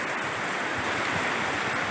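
Rain pours steadily onto outdoor ponds during the rainy season, a dense, even wash of falling water that stays close and loud throughout.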